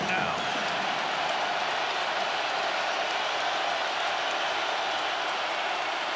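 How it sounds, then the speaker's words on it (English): A college football stadium crowd during a Stanford vs Syracuse game roars in a steady, dense wall of cheering noise that holds loud and unbroken throughout. "Oh yeah, the crowd is cranked up now."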